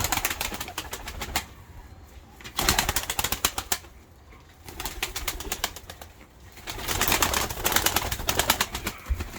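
Tumbler pigeons from a Kars flock tumbling in flight, their wings clapping in rapid, sharp bursts that come in waves and fade in between, with some fluttering wingbeats and no voices.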